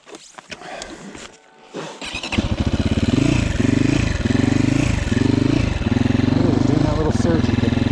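A GPX Moto FSE300R four-stroke enduro motorcycle on tight woods single track, its engine starting up and then surging in repeated pulsing waves of revs, loud and close, with a voice speaking briefly at the start.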